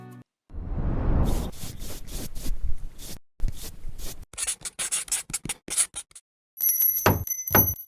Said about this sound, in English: Make the cuts per the plans and sand down all the boards.